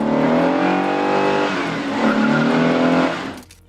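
A 1970 Dodge Super B muscle car engine roars loudly and steadily, its rich revving drone holding strong for about three seconds before quickly fading away, with no talk over it.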